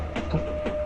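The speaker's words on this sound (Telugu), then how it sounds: "ఈ ట్రైన్ వెళ్తూనే ఉండాలి, ఆకూడదు." A moving train runs on rails with a steady low rumble and faint rhythmic clacks, continuous and moderately close over the brief span.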